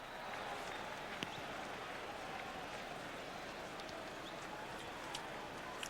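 Stadium crowd at a 1996 Raiders at Cardinals preseason football game, a steady distant wash of clapping and crowd noise with no clear individual claps standing out.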